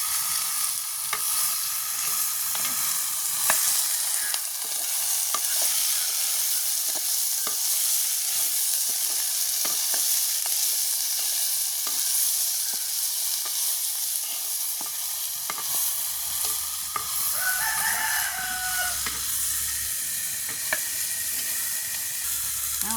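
Onions and garden vegetables sauté in a pan for a village-style dish, a steady loud sizzle with frequent scraping stir clicks, later joined by a faint higher whine and low rumble.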